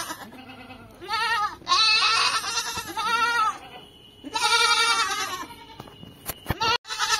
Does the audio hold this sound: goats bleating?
yes